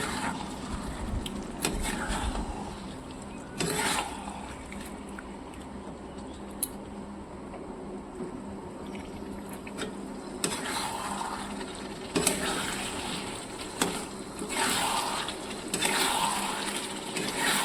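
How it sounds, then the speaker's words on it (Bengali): Water poured into a soybean curry cooking in a pan: gurgling, splashing bursts that grow louder and more continuous in the second half. "এবার আমি জল ঢেলে দেবো।"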